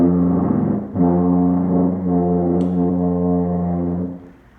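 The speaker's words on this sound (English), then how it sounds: "So I'm going to pull this out slightly and see if that fixes anything." A tuba sounds one long, steady low note after its tuning slide is pulled out slightly, with a brief dip just after the attack; the note is loud, close and alone, then fades at the end.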